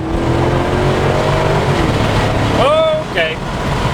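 A 2010 Chevrolet Camaro SS with 400 horsepower accelerates hard with traction control on, its loud engine roar rising close by while people exclaim over it.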